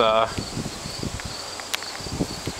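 An electric igniter on an outdoor burner at an off-grid cabin, sparking in strong wind, gives a string of faint, quick ticks and clicks under steady wind noise after a short voiced sound at the start.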